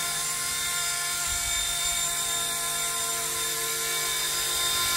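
An RC scale MD500 helicopter flies with its rotor spun to high RPM, giving a steady, loud, continuous whine and buzz with no letup and no talking.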